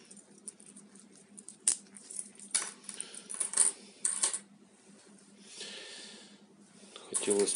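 Cheap stamped, not cast, metal handcuff keychain handled up close, giving a series of bright metallic clinks and jingles in irregular bursts, with softer rubbing and shuffling between them.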